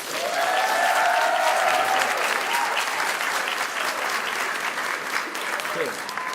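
Sustained applause from a graduation ceremony audience fills the hall, loud and steady throughout with a few cheers rising above the clapping.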